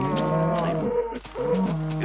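Cows in the Minecraft video game moo loudly, two long drawn-out lowing calls separated by a short pause.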